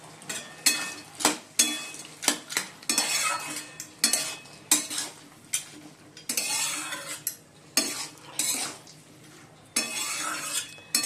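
A utensil stirring chachchari curry with bori in a pan, loud repeated scrapes and clinks against the metal in an uneven rhythm over a soft sizzle.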